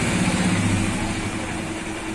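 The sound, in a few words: Honda E1000 generator engine running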